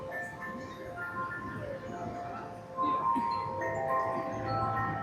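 A very large Black Forest cuckoo clock plays a chiming mechanical melody of sustained bell-like tones at moderate volume while people murmur in the background.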